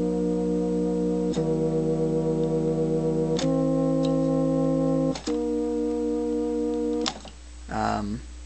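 Retuned chord buttons on a vintage 1953 Hammond Chord Organ, several sustained electronic organ chords in turn, each held a second or two and changing with sharp clicks, ending with a brief wobbling tone.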